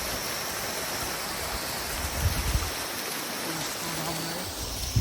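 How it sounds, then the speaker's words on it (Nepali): A stream rushing over rocks in the hills of Mabu, Ilam, giving a steady broadband rush of water throughout, with a few faint low knocks near the middle. "यो झर्ना होइन खोला हो।"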